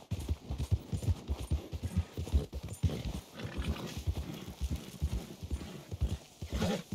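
Steady clip-clopping of horse hooves in Red Dead Redemption 2, a quick, rhythmic trot heard close and continuous throughout, with a faint whinny.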